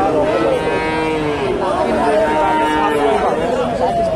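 A Friesian bull lowing at a large cattle market, long drawn-out moos rising and falling over the constant chatter of a crowd and people talking nearby.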